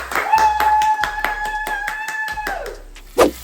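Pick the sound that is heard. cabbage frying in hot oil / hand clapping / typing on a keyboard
hand clapping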